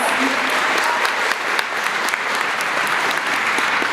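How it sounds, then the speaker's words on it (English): Graduation crowd at a charter school ceremony claps continuously, a dense, loud, sustained wash of many hands with a few sharper individual claps standing out. "give yourselves some round of applause"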